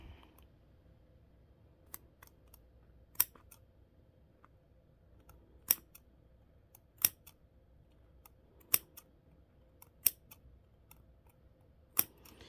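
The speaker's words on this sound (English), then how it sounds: "All right, so I'm gonna snip." Scissors snipping fabric near the stitching of a bag, about a dozen crisp, separate clicks spaced one to two seconds apart, close and clear over a quiet background.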